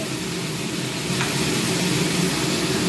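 Tomato chutney with date palm and raisins frying in a pan as it is stirred: a dense, steady sizzle with soft scraping, close and continuous for a few seconds, without speech.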